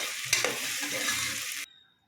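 Onions frying in a pan with salt just added, a steady broadband sizzle with a brief stirring scrape near the start, cutting off abruptly after about a second and a half into near silence.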